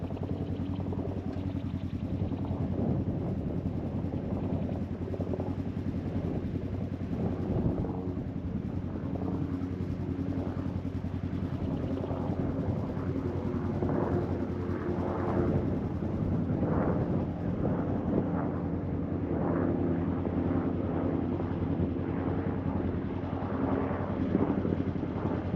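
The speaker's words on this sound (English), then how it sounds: "what is it with helicopters lately?" A helicopter flies over a Utah backcountry route, a steady low rotor drone holding loud and constant throughout with rhythmic thumping, no voices.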